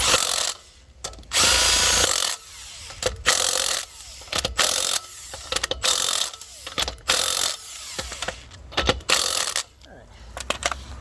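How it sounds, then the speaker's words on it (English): A wrench ratchets and spins lug nuts onto the wheel of a Coyote-swapped Ford Fairmont fitted with Mickey Thompson ET Street R tires, in loud bursts of clicking and whirring, close up, with brief pauses between. "Alex, where's your torque wrench? It's a couple lug-a-duggers in it."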